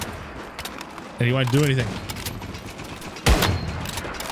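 Gunfire in the survival shooter Once Human, a single loud close shot standing out near the end. Players talk over continuous game ambience.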